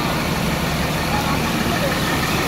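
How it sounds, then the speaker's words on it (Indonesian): Rosalia Indah coach with an RM 280 engine idling, a steady low diesel rumble with even, continuous texture, heard up close with no change in pace. "Nah, ini mesinnya ya, teman-teman. Jadi mesin RM 280."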